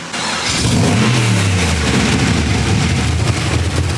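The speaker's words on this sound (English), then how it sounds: "the chop at low idle is so good" LS3 V8 engine swapped into a BMW E46 on its first start-up, firing and then revving hard before settling into a loud, lumpy, choppy idle, up close with no talking.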